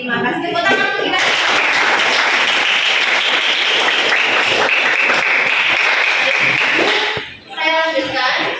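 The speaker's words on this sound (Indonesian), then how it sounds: "Tepuk tangan untuk kita" Audience applause at a school religious talk on believing in Allah's prophets, loud close clapping that swells and holds for about six seconds, with short bursts of speech before and after.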